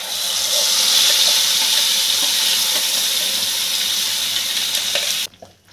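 Onion-tomato gravy for hotel-style matar paneer poured into a hot pan of sizzling cumin and butter on low flame, a loud steady sizzle that cuts off abruptly near the end.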